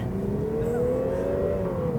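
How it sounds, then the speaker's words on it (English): A 2019 Lexus RC 300 F-Sport with turbo lag accelerates sluggishly off the line, its engine drone rising slowly and steadily over two seconds, heard from inside the cabin with no talking. "Oh my God, this car is sluggish."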